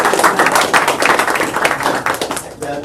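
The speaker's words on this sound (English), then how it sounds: "We clap for everybody else here." Audience clapping at an investor meeting, a dense, steady patter of many hands filling the room for a few seconds, fairly loud and close, thinning slightly near the end.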